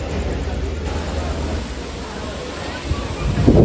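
A steady roar of falling water from a waterfall at a water-park restaurant in Taloja, Panvel, fills the background, broad and noisy, with a brief thump near the end.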